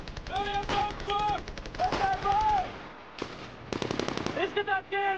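Machine gun fire in a Finnish war film, with repeated rapid bursts of shots crackling through the scene amid battlefield noise and a shouted voice, fairly close and loud.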